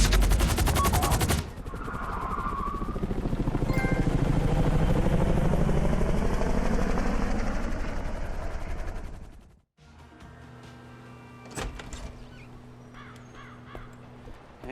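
A helicopter lifts off in the video game GTA 5, a loud steady rotor roar with gunfire-like crackling that cuts off abruptly, followed by quieter game ambience.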